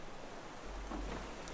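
Steady video game rain hisses across the whole clip, joined partway through by a low rumble, with no talking.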